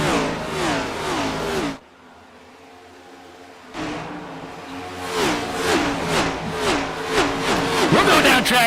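Race cars roaring past at Homestead-Miami Speedway during a Stars & Stripes Next Gen Series race, loud engines sweeping by one after another with Doppler pitch shifts, a brief lull in the middle, then a dense stream of passing cars.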